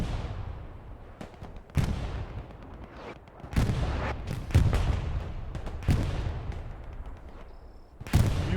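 Gunfire and artillery from the World War II shooter Hell Let Loose: loud bursts and crumping booms strike every second or so over a steady rumbling battlefield bed, with several heavy blasts standing out near and sharp.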